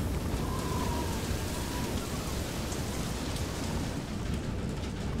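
Steady, dense rain from a thunderstorm in the video game FAR: Lone Sails, a continuous broadband wash with low rumbling underneath, holding at an even loudness throughout with no voices.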